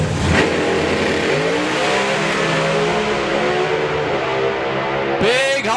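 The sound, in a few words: nitrous drag racing cars launching down the strip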